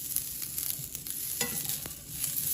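Garlic Brussels sprouts frying in a pan greased with just a little oil, a quiet steady sizzle with faint scraping and stirring clicks, no voices.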